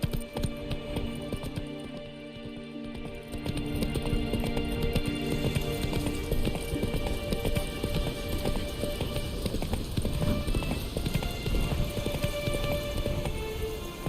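A horse gallops steadily in The Witcher 3, with continuous close hoofbeats thudding in a fast, even rhythm that grows denser partway through, set over a faint background hum.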